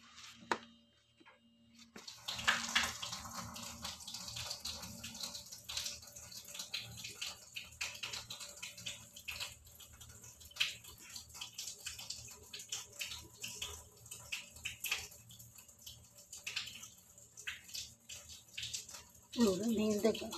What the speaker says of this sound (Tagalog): Kaya buksan ko ngayong ano. Yung tubig.